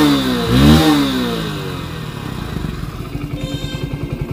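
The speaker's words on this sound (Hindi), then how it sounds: "इसका एग्जॉस्ट नोट भी काफ़ी अच्छा आता है। एग्जॉस्ट नोट मैं आपको सुना देता हूँ।" A Hero Splendor Plus Xtec motorcycle engine revs up sharply once, then settles into a steady, throbbing idle with a pulsing exhaust beat, close by.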